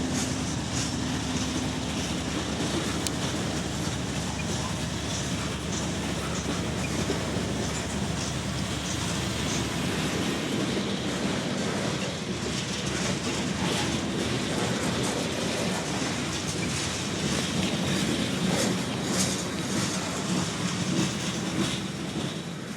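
A loaded Herzog ballast train rolls past behind a DPU, its wheels clattering and rumbling steadily for the whole stretch with occasional metallic squeals, fairly distant and moderately loud.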